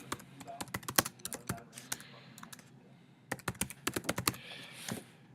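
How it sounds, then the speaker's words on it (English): Typing on a computer keyboard, with close, crisp key clicks in quick irregular bursts, a short pause, then another run of taps. "So let's type something."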